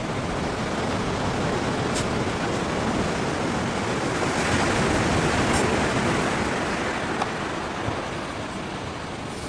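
Ocean waves at a beach surge in a continuous, loud wash of surf with a wind-like roar and no distinct individual breaks, steady throughout.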